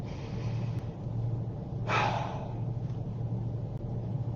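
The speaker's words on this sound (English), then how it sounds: "put your hands on your head, take a deep breath" A single deep breath during an emotional freedom tapping exercise, one soft airy inhale-exhale near the mic over a steady low hum, otherwise quiet with no talking.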